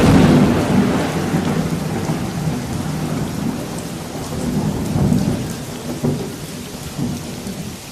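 Thunderstorm with steady rain falling on surfaces, low rolling rumbles of thunder swelling and fading throughout, loud and continuous with no voices.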